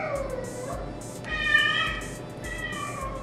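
A pet cat meows loudly and close by, two or three drawn-out calls in succession with no talking over them.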